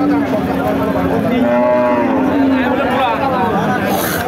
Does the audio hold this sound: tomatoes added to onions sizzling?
no